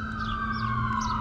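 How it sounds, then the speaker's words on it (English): An ambulance siren wails steadily beside a river, sounding moderately distant under a constant background hum as it passes. "Ambulance."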